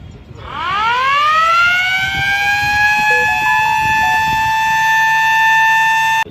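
A loud civil defense siren winds up from low to a high, sustained wail that holds steady, with faint background noise beneath it.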